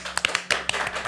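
A few hands clap in scattered, uneven bursts on a podcast set, sparse and fairly quiet rather than a full crowd.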